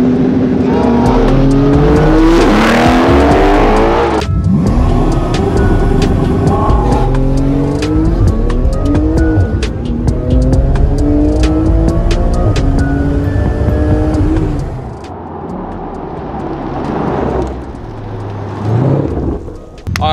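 A Ford Mustang Shelby GT500 and a Porsche 911 GT2 RS launch in a drag race, engines roaring and revving hard, climbing through gears with harmonic sweeps, then fading slightly before a final surge; no talking.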